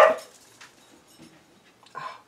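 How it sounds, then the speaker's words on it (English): Puppies bark and yip faintly, with a short sharp bark at the start and another a couple of seconds later, quiet scuffling in between. "puppies"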